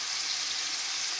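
Pepper-coated pork pieces sizzle steadily in a frying pan, a loud, close, even hiss with no voices.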